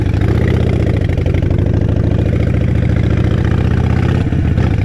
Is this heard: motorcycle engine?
yes